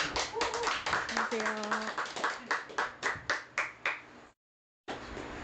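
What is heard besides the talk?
audience applause welcoming the speaker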